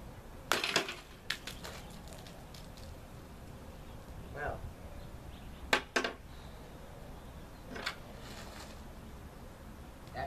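Blows striking a ballistics gel cup, a handful of sharp isolated cracks and thuds spaced several seconds apart over a quiet background.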